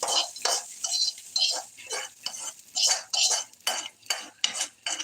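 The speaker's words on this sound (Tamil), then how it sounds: "அதில் வெங்காயத்தை அள்ளி போட்டு அப்படியே பொரியல் தாளித்து விட்டலாம்" Onions stirred in a pan with a metal spoon while tempering a stir-fry: repeated scraping, clinking strokes at an uneven rhythm, close and fairly clear, with a light sizzle under them.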